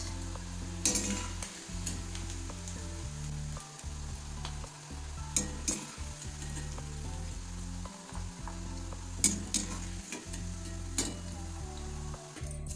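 Bitter gourd slices frying softly in hot oil give a steady, continuous sizzle, broken by occasional sharper clinks and scraping strokes of a utensil in the pan, with no voices.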